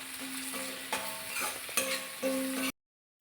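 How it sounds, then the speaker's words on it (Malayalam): Onions with green chili and curry leaves being stirred as they fry in a pan for sardine thoran, a close, steady sizzle with a few utensil scrapes and clinks, ending in sudden silence. "ഇളക്കി കൊടുക്കാം."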